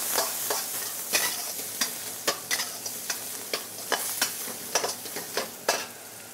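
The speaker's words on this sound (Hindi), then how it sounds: "अब इस अनियन को पकाना है और हम अनियन को हल्का सा कलर देंगे," Chopped onions sauté in oil for a papaya and carrot thoran, a soft steady sizzle broken by sharp, irregular scrapes and clicks of a spoon stirring against the pan, close and with no talking.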